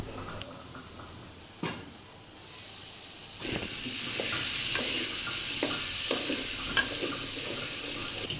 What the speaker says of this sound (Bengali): বিচিগুলো বেজে নিচ্ছে এখন